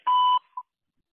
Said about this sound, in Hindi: बीप आवाजानंतर कीपॅडवर तुमचं